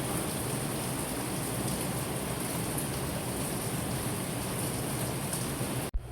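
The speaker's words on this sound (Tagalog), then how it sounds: "Sobrang lakas ng ulan, guys." Heavy rain pours steadily on an early rainy morning, a dense, even hiss that fills the whole span before cutting off abruptly near the end.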